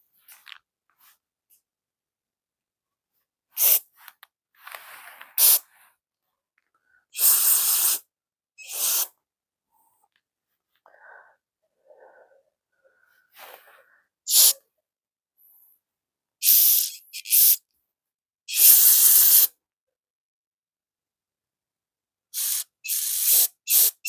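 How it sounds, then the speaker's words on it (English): Carburetor cleaner hisses out of an aerosol can through carb jets in a series of short, sharp spray bursts separated by silence, close and fairly loud. "Good spray out of all of them now."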